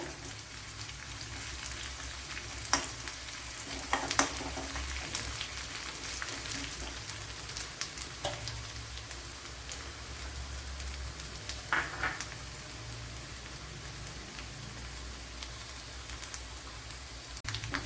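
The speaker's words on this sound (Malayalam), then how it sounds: "ഇവിടെ ഉള്ളിയൊക്കെ വഴണ്ട് വന്നിട്ടുണ്ട്" Onions softening in a pan for a cucumber curry, giving a soft, continuous crackling sizzle close by, with a few faint scrapes of a spoon scattered through.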